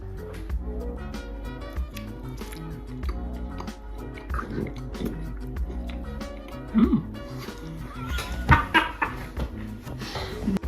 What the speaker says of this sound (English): this is a sound of me chewing